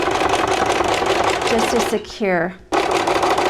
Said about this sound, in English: What I like to do is stitch another seam about 1/4 inch from the original seam, the side seam